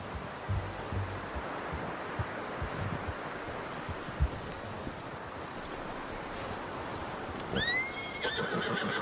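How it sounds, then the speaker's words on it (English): In the Red Dead Redemption 2 game, a horse's hooves clop and shuffle over rustling ground and steady ambient noise, and then a loud neigh breaks out near the end. "You should really tether that horse, Arthur."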